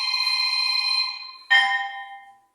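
A stone struck once, giving a clear bell-like ring that sustains and fades, then a second sharper strike rings out and decays slowly.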